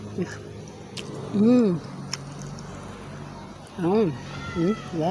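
A cat meows several times nearby, drawn-out rising and falling cries, amid faint outdoor background noise.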